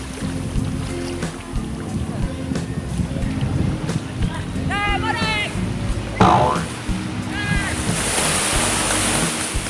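Surf breaking steadily at Watu Karas beach in Pangandaran on an afternoon, a continuous wash of waves with wind buffeting the microphone, while people chat and call out over it, with a short high shout partway through.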